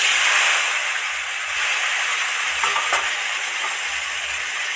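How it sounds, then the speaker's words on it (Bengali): Potato and tomato pieces frying together in hot oil with bay leaf and dried chilli tempering for a rohu fish curry, a loud continuous sizzle with a few faint stirring scrapes. "আলু টমেটো একসাথে দিলাম, আলুর সাথে টমেটোটা ভাজা হবে"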